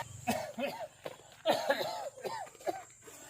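A man coughs repeatedly in a rough, hacking fit, several harsh bursts in quick succession with strained, voiced edges, close and fairly loud.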